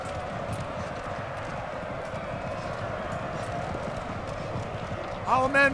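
Light horse cavalry galloping in the Napoleon Total War game, a steady rumble of hooves and battle noise under continuous commentary, with a horse whinny rising at the end.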